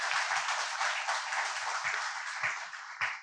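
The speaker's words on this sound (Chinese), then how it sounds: "就请大家再一次热烈嘅掌声，多谢青春派博士" Audience applause at the close of a public lecture on old Hong Kong families and porcelain photos, dense steady clapping from a crowd, fairly even throughout and slightly distant.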